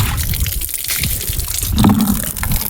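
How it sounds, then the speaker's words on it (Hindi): Clean tap water gushes steadily from an outdoor faucet into a bucket, making a loud, continuous splashing pour with no one speaking. "टूटी चलाते हैं"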